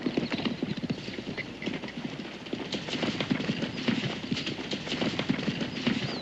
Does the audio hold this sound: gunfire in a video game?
no